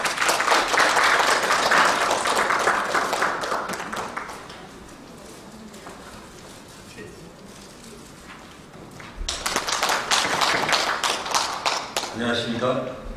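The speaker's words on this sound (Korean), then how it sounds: "큰 박수 부탁드립니다." An audience at a Korean defense safety symposium bursts into loud, dense applause that tapers into quieter scattered claps, then swells again near the end.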